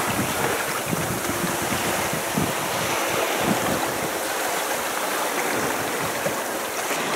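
Strong wind and Atlantic waves roar around a sailboat at sea, a dense, loud and continuous rush of surf and gusting wind noise with no voices.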